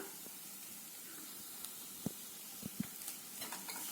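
Onions and curry leaves sautéing in a pan for bun dosa, a faint steady sizzle with a few soft clicks and taps of stirring.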